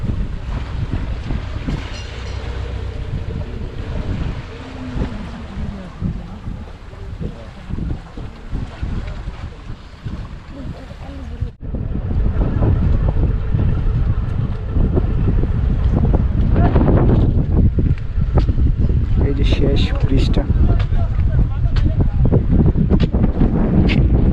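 A trawler engine drones steadily at sea off Kumira ghat, Sitakunda, while wind buffets the microphone, growing louder and rougher partway through, with indistinct voices faintly underneath.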